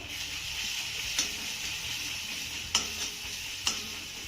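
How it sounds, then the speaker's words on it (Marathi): Chilli powder and turmeric sautéing in a pan give a steady, even sizzle, broken by a few sharp clicks as the spices are stirred. "आता हे सगळे मसाले आपल्याला एक ते दीड मिनटं चांगला परतून घ्यायचे आहेत"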